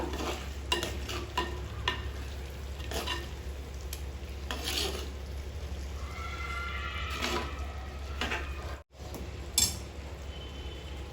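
Chicken fry being stirred in a clay pot as it cooks, with a steady low sizzle and repeated scraping strokes of a spoon across the pot, close and alone with no talk.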